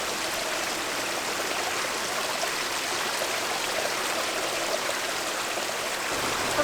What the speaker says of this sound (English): we went up the first creek that we saw and we did find a waterfall